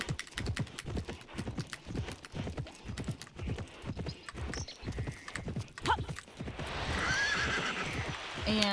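Horse hooves clip-clopping in a fast, steady rhythm in the Petz Horse Club video game, followed by a loud whinnying neigh near the end, with some talk faintly underneath.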